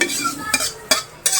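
A spoon stirs mung beans cooking in a pot, making three loud, close scraping swishes in quick succession with gentle simmering between them.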